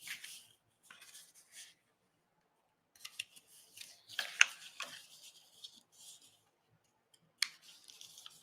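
Printed paper for a junk journal is folded by hand, with soft crisp creases and rustles in short bursts, a couple of sharper snaps, and silent pauses between them in a quiet room.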